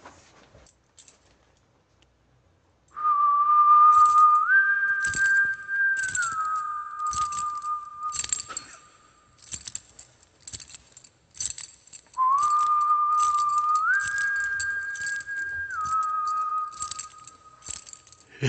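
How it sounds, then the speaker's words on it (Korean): A person whistles into the microphone while playing the White Day horror mobile game, giving two rising and falling whistled phrases with a pause between them over faint clicks and taps. "휘파람을 직접 불어줘요."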